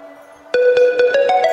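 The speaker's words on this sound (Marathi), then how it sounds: "अव इकडे व तुझा फोन वाजत आहे." A mobile phone ringtone plays indoors at home. It starts with a low tone, then a loud, repeating melodic pattern of bright pulses rings out clearly with no talking.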